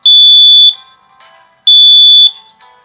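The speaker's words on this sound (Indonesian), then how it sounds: "mengganti alarmnya, buzzernya dan lampunya ini dengan kipas angin mini ini" Two loud, sharp electronic buzzer beeps from a miniature automatic fire extinguisher alarm triggered by a distance sensor, each lasting about half a second with a pause between, heard alone and close up.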